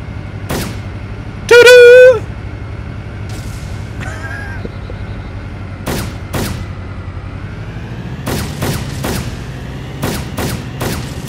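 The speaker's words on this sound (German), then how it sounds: "jetzt schießt er schön rum und freut sich" Gunfire in the video game DayZ: a string of sharp, loud shots spread across the clip, singles and close clusters, with a brief loud tonal burst near the start and a low hum running beneath.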